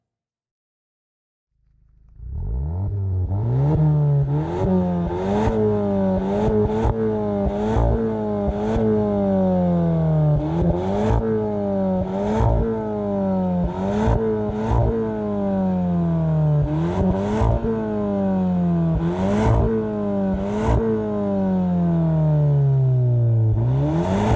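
A Volkswagen Golf GTI 7.5 Performance with a Stage 1 tune at 310 hp accelerating hard on a test drive. The engine rises repeatedly through the gears with quick shift breaks and climbing revs, loud and close, with no talk.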